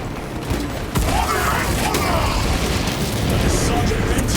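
Loud, dense gunfire and explosive booms from the Warhammer 40000 Space Marine video game, a steady roar of combat noise that thickens after the first second, with a voice speaking under it.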